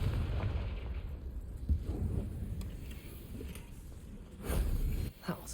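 A Confringo explosive spell goes off in Hogwarts Legacy: a steady, rumbling game soundscape builds to a brief, louder fiery blast near the end.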